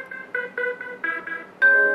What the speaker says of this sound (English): You can set your own alarm